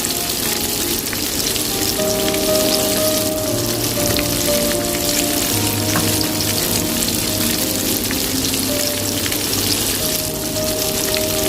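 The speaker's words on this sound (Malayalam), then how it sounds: "ഇനി ഓരോന്നായിട്ട് ഫ്രൈ ചെയ്തെടുക്കാം." Chicken pieces for crispy chicken French fries fry one at a time in hot oil, giving a steady, dense sizzle with crackle that runs close and loud for the whole stretch, with no talking.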